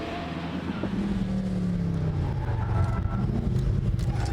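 An OBS Chevy C-1500 pro-touring sport truck drives on a track, its engine droning steadily with a falling then rising pitch as it runs through gears and corners, loud and close throughout.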